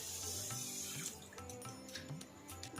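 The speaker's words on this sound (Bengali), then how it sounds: "ওই কাপেরই 1 কাপ জল দিচ্ছি" Water from a cup pours over sugar in a pan in a kitchen, a steady close splashing stream lasting a couple of seconds with small drips and clinks.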